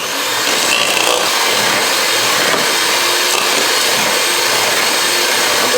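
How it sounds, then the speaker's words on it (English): Butter and sugar are creamed together with a whisk, giving a steady, loud, dense churning that runs without pause throughout. "So I'm creaming the butter and the sugar together."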